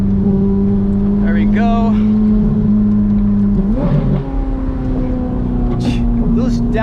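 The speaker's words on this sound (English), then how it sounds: "Those downshifts are absolutely insane." A Ferrari 430 Scuderia's engine and exhaust drone loudly from inside the cabin with the windows down, rising and falling through downshifts, and someone briefly talks over it.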